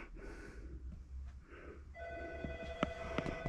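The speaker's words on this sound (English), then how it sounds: "And a phone's ringing in the background." An old-style telephone rings faintly in the background in rapid repeated trills inside the West Kern Oil Museum in California, over steady room noise with no talking.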